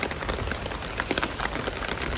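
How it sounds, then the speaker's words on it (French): Heavy rain pouring outdoors, a dense steady hiss of drops pattering on surfaces, close and continuous with no voices. "il pleut énormément"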